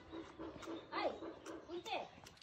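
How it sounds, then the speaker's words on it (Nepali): A dog gives short yips and whimpering barks in quick bursts, close by, mixed with a person talking to it. "पुन्टे भुक्नु हुँदैन है।"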